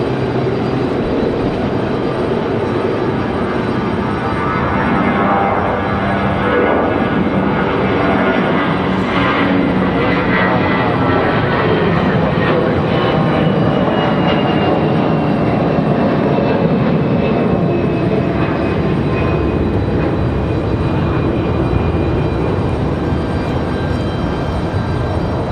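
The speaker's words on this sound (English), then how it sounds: "the 787 Dreamliner of Air France. Getting ready to make that long trip back to Paris." An Air France Boeing 787 Dreamliner jet airliner at Raleigh-Durham International Airport gives off a loud, steady jet engine roar that holds unbroken throughout, with no voices.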